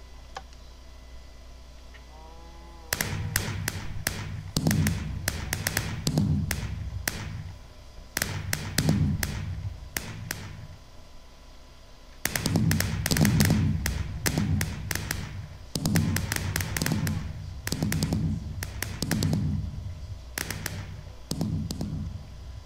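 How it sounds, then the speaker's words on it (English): Minecraft fireworks in a game firework display pop and crackle in repeated clustered bursts of sharp, loud explosions, separated by short quiet gaps, with no voices. "here's my firework display. I'm going to set it off first"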